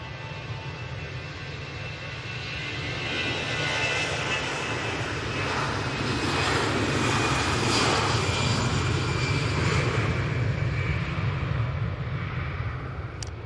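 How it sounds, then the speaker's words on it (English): An EasyJet Airbus A320-200 jet takes off from Manchester Airport, a loud steady engine roar that swells and holds through the middle before easing slightly, with no voices over it. "It's EasyJet's A320-200 is off to Athens."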